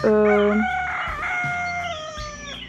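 A rooster crows loudly and close, a long drawn-out call, followed by softer clucking from nearby chickens.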